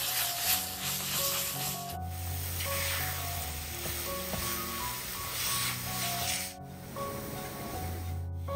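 Roasted semolina and grated banana stirred in ghee, a steady close sizzle with scraping and rubbing of the spoon through the thick mixture, continuous throughout.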